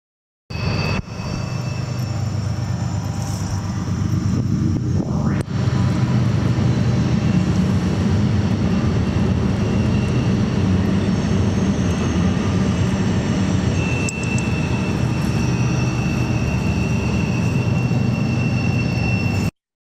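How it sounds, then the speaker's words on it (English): A train passes somewhere in the distance outdoors, a steady low humming rumble that holds for the whole stretch with no talking. "that was a train in the background, that humming noise"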